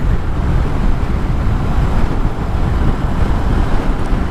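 Heavy, steady wind roar buffeting the rider on a 2019 Kawasaki Vulcan S ABS motorcycle at speed, a loud continuous rumble with no gaps and no voices.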